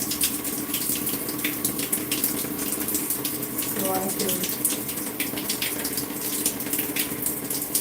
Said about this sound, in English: I'm going to turn the water on so it can get warm